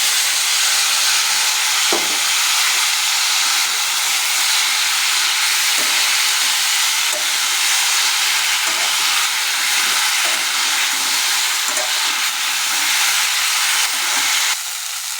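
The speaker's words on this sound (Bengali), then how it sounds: "দিয়ে আমি ভালো করে এখন নাড়াচাড়া দিয়ে তারপরে একটু ভেজে দেবো" Tomato, green chilli and chopped ginger frying in a pan, a steady close hiss of sizzling with a few soft stirring knocks, no talking.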